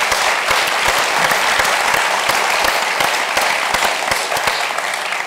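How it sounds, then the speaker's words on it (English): An audience gives a sustained round of applause for event partners, dense and steady clapping from many hands throughout, close and fairly loud. "Could we just give them a round of applause?"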